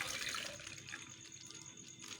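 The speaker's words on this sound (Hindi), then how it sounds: "थोड़ा सा पानी डाल दूँगी" A little water splashes into a grinder jar holding yogurt for curry pakora spice paste, a soft, steady, faint pour in a home kitchen.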